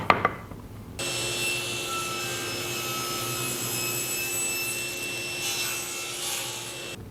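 A table saw cuts a taper into a wooden leg workpiece on a tapering sled: a brief knock, then a loud, steady high-pitched whine of the blade running through the wood without pause.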